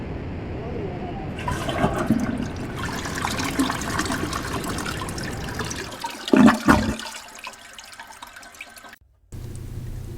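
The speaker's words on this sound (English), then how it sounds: "this missile has a toilet on board. I'm gonna go in and flush myself down" A toilet on board a missile flushes with a loud rushing gurgle of water that swells, then drains away into trickling, ending with a sudden cut to quiet.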